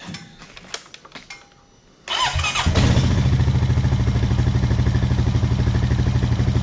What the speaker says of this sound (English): Fire it up again.